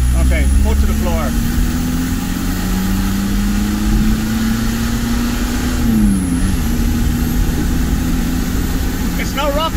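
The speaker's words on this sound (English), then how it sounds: "Okay, foot to the floor." A VW T25 van with a TDI engine, down on power, accelerates at full throttle from inside the cab, a loud continuous engine drone rising steadily in pitch before briefly dipping at a gear change and climbing again.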